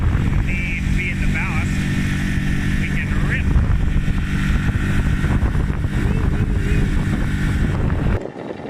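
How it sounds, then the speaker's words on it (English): A small dinghy motors through mangrove water, its outboard engine droning steadily and loudly with wind buffeting the microphone, while people talk over it; the engine noise cuts off abruptly near the end. "mangroves again. This time just me and Silas and the dinghy"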